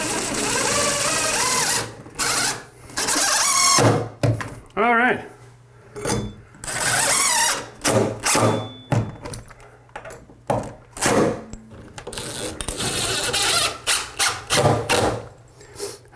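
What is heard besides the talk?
drilling a screw into a shower plate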